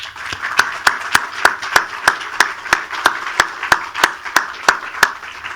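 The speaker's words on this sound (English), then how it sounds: "A round of applause for them" Slow, rhythmic clapping from an audience at an outdoor stop on a breast cancer motorcycle ride, sharp evenly spaced claps repeating about every third of a second with a soft crowd bed underneath.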